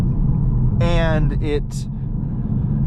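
A 2011 Audi A3 TDI diesel engine slowing under compression braking gives a steady, close low rumble throughout, with a short stretch of someone talking over it.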